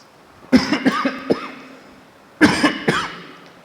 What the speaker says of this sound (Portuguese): Depois tu corta, hein? Essa tosse aí, viu?